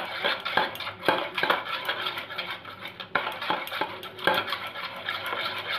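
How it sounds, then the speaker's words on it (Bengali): A spoon stirs a mixture of rice-starch water and tea leaves in a bowl, giving a steady run of close, soft scraping and clinking strokes in an uneven rhythm, with no one talking. "চলো ভালো করে মিশ্রণটাকে আমি করে নিই, মিশিয়ে নিই সব কিছুর সঙ্গে"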